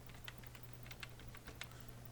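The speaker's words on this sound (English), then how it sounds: "Now you have to type, press enter." Quiet, quick keystrokes as a command is typed on a computer keyboard, a dozen or so light clicks in an uneven run over a low steady hum.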